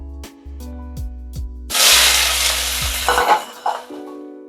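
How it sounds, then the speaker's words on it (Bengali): Bottle gourd peels drop into hot oil already tempered with black cumin and dried red chilies, setting off a sudden loud sizzle that crackles and then eases off. A low steady hum is heard before it. "লাউ খোসাটা ছেড়ে দিয়েছি।"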